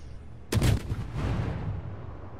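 A warship's big naval guns fire in the video game World of Warships: Legends, one loud booming blast that rumbles and fades over about two seconds, heard alone with no talk.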